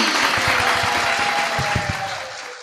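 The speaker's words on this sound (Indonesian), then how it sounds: "Tepuk tangan dulu dong untuk Mahat Sunan Ampel Al-Ali." An audience applauds at a religious student gathering, with dense steady clapping of many hands throughout, close and loud, fading slightly at the end.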